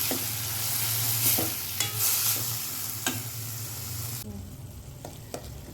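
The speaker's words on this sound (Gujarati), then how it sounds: "થોડી વાર આપણે આને સોતરશું" Dal ingredients are sautéed in a pan, with a steady sizzle of frying under repeated scraping stirs of a spoon, close and fairly loud; the sizzle quiets partway through.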